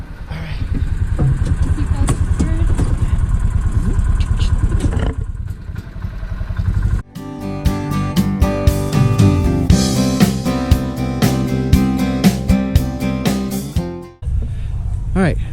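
A Gator utility vehicle loaded with people and a welcome-center setup: voices talk at first, then a rattling small engine runs and clatters loudly and steadily for several seconds before cutting off.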